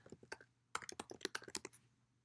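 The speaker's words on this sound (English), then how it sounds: "type in our password" A password is typed on a computer keyboard: a quick, quiet run of close keystroke clicks in two bursts separated by a short pause.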